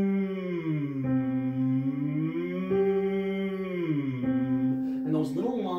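A singer's gentle lip-trill hum as a vocal warm-up, lips vibrating steadily while the pitch glides up and down for several seconds, close and clear, with a brief breathy disturbance near the end.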